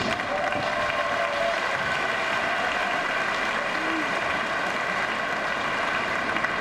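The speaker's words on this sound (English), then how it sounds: "Applause for you all" Audience applause at a women's wheelchair basketball gold medal game, dense steady clapping from a large arena crowd sustained throughout without a break.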